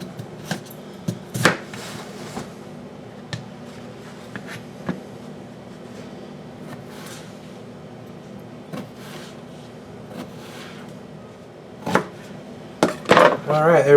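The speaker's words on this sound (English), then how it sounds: "we're just going to chop it up now" A knife strikes a cutting board in sharp, irregular chops, cutting a Mexican potato into half-inch fries, sparse at first then quickening into a rapid cluster near the end.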